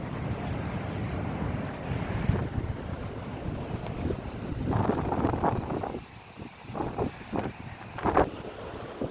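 Strong wind blows at Kotha Koduru beach by the sea, roaring and buffeting the microphone in loud gusts with surf beneath, easing briefly before sharp gusts return.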